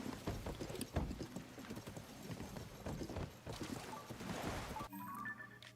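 Horse hooves clip-clopping in Zelda: Tears of the Kingdom at night in the Faron Region, a steady rhythmic trot of close hoofbeats, then a short mechanical chime at the end.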